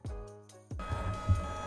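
A label printer feeding and printing labels: a short tonal whir, a brief pause, then a buzzing mechanical clatter with a small clunk, close and fairly quiet.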